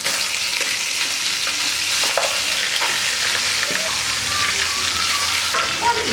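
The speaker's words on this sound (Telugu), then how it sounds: "ఆయిల్ హీట్ అయ్యాక అందులో ముందుగా మనం శుభ్రం చేసి పెట్టుకున్న చికెన్ వేసుకోవాలి" Cleaned chicken pieces frying in about two tablespoons of hot oil in a pan for Andhra-style chicken biryani rice, a steady loud sizzle with scraping stir strokes and occasional crackles throughout, no voices.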